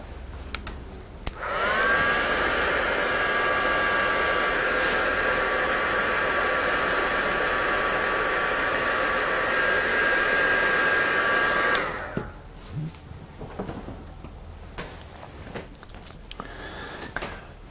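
Heat tool drying a mixed media craft tag, blowing as a loud, steady whooshing drone with a faint whine for about ten seconds before it shuts off, followed by quiet handling noises.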